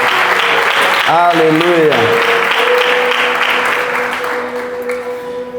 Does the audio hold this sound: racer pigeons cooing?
no